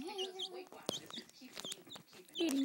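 A pet chicken making soft clucks and brief squawks indoors, scattered irregular calls with some faint rustling and a quick voice in the background.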